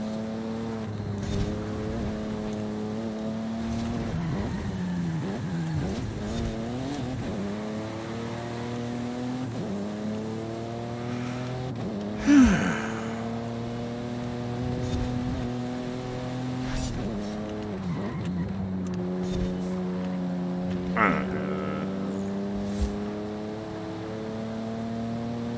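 A Buick V6 in Forza Horizon 5 revs hard and repeatedly up to a low redline, with the pitch climbing and dropping through gear changes, loud and close and with occasional sharp tire chirps.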